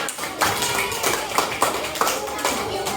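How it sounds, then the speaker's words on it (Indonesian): A class of children claps together in a third-grade classroom, a few bursts of applause spread across the moment, fairly close and lively with faint background voices. "Kasih tepuk tangan dulu semuanya."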